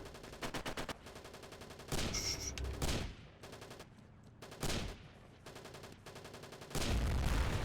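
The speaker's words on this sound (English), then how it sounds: "I hear gunfire" Bursts of machine gun fire in the World War II online shooter WW2 Online, with rapid rattling volleys broken by short pauses, some loud and close and others more distant, with no talking.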